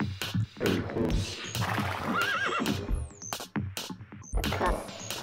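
A horse whinnies with a rising, wavering call amid sharp clip-clopping hooves and knocks, set within a dense, busy electronic soundscape with sudden swooping tones.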